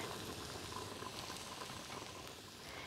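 Mushrooms and zucchini sauté in a pan, giving a soft, continuous sizzle with faint bubbling, quiet and steady throughout.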